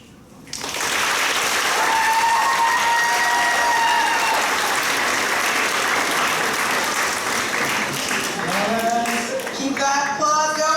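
Audience applause at a grade 11/12 spoken word poetry event, a loud wash of clapping swelling in after a quiet start and holding steady, with whoops and cheering voices rising through it toward the end.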